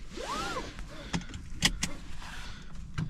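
Inside a 2024 Toyota Yaris Hybrid, a key goes in and the car starts with a soft electronic whir and rising chime tone, followed by a few sharp clicks and clunks, fairly near and quiet.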